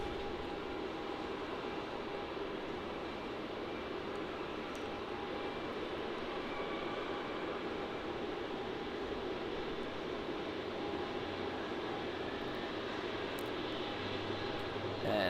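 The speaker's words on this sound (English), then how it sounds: "It's going to be the Virgin Australia 737-800." A Virgin Australia Boeing 737-800 arrives on runway 16 at Melbourne Airport, its jet engines a faint, distant, steady rumble and whine that stays low and even throughout.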